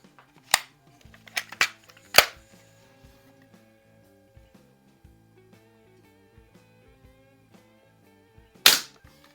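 A 1986 Daisy model 840 single-stroke pneumatic BB gun fires a few sharp cracks spread over several seconds, with a louder final shot near the end, over quiet background tones.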